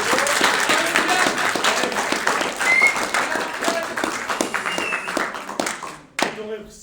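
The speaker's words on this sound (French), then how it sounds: "Donc un peu d'applaudissements pour eux" An audience applauds students who have just debated at an Epita Lyon student association election event, a dense, steady wash of many hands clapping together, with talk underneath, before thinning out near the end.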